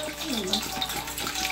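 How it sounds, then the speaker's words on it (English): Water is pumped into a bowl to make ginger peach tea, gushing and splashing steadily close by while voices talk over it. "I'm pumping the water in the bowl."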